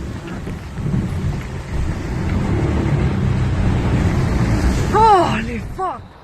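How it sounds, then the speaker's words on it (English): A heavy rain downpour gives a dense, continuous roar of rainfall, with people talking and exclaiming over it near the end. "And then it started raining, and man, did it come down."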